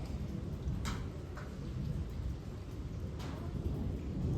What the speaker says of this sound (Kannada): ತುಂಬ ಗುಡುಕ್ತಾ ಇದೆ.